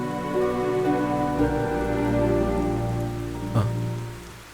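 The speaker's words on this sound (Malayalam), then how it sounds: "ഈ മഴയൊന്ന് കുറയട്ടെ." Heavy rain pours down steadily and loud, a dense continuous wash of drops on surfaces, with a brief louder splash near the end and no voices.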